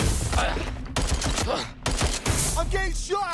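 Gunfire crackles in the Watch Dogs: Legion video game, several sharp bursts of shots in quick succession with short gaps, mixed with clattering game effects and brief voice sounds.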